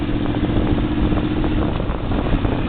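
A Yamaha Venture touring motorcycle cruises in fifth gear, its engine a steady, loud, even drone with wind rush over the microphone throughout.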